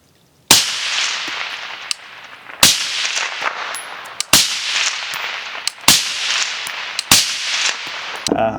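Suppressed 5.56 rifle with an 11.5-inch barrel fired outdoors, five sharp loud cracks spaced about 1.5 seconds apart, each trailing a long echoing decay, with no talking.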